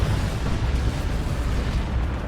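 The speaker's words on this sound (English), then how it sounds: "Long range artillery, you need to manually target each of those 4 missiles." Long-range artillery missiles strike in the Dawn of War 2 strategy game, a continuous heavy rumbling roar of explosions filling the whole stretch without clear separate impacts.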